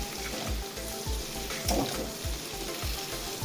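Dal fara pieces fry and get stirred in a pan, giving a steady close sizzle broken by regular scraping strokes of the spoon roughly every half second.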